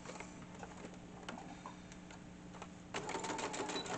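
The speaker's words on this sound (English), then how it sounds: "we're going to sew down one side" A sewing machine stitches a seam down one side of two small fabric strips for a patchwork quilt. It gives a steady, fairly quiet mechanical whirr that grows louder and busier near the end, with no talking.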